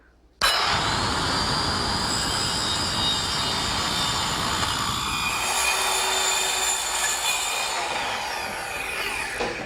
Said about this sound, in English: Now that completes the trimming of the panel for the other side